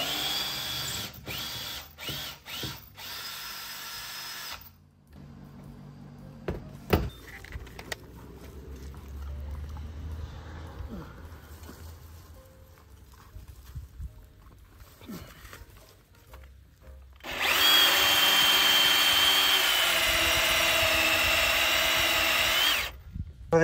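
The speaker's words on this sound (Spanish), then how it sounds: "he metido la broca por el agujero ese y voy a quitar eso" A power drill with its bit fed through a hole works to back out a stuck part on a container home in Tenerife, whirring in several short bursts and then running in a long, loud, steady spin near the end.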